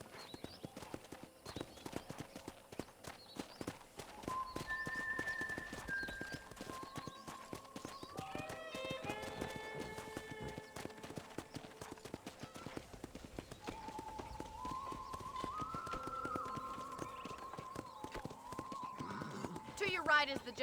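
Horse hooves clip-clop at a steady walking rhythm on a ranch in Red Dead Redemption, low under sustained music tones and occasional talk.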